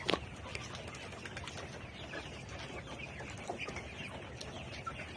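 Many Hisex Brown layer hens cluck and murmur together in a poultry shed, a busy, echoing chorus, fairly quiet and continuous, with a few sharper calls standing out.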